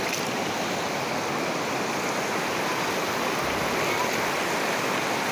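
Clear water from the mountain flows in a stream as a steady, broadband rush, loud and unbroken all the way through, with no voices over it.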